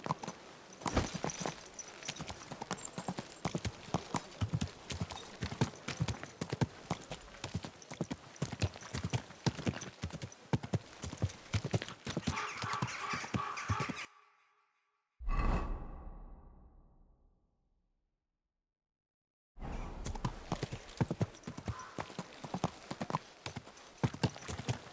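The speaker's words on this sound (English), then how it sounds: "Someone's been pampering this horse." Horse hooves clip-clop steadily in Kingdom Come: Deliverance 2, a close, even walking rhythm that cuts out briefly into a short whoosh and silence before the hoofbeats resume.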